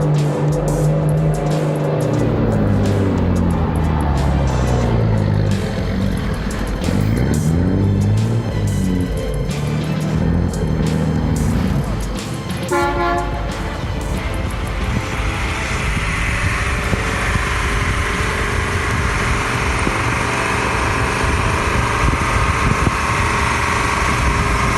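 Heavy engines roar and rev loudly with sweeping pitch changes, then settle into a steady broadband drone, from a loaded truck pulling a trailer up a climb.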